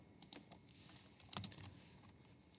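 Quiet keyboard typing during a Python lesson: a few scattered keystrokes and a short quick cluster of taps, close-miked and faint against a low background hiss.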